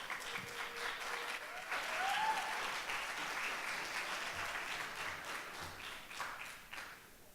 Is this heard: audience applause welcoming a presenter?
yes